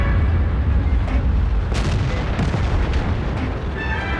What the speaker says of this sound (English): When artillery zones in, however, it's time to run.